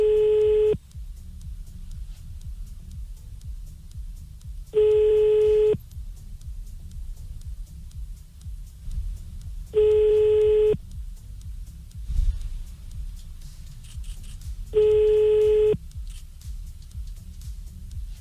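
Telephone ringback while calling a French mobile number, four evenly spaced long tones about every five seconds over a low line hum, heard alone.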